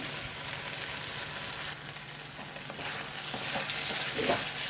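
Bottle gourd curry simmering in a pan under a lid, a steady close sizzling and bubbling hiss with soft stirring-like crackles throughout, no talking.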